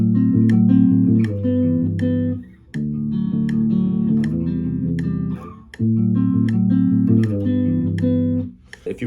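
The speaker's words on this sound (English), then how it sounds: "So the whole thing again with a slightly faster metronome would sound a bit like this." Strummed guitar chords in a steady rhythm, loud and close, playing a song at a slightly faster tempo, with brief pauses between phrases and no talking.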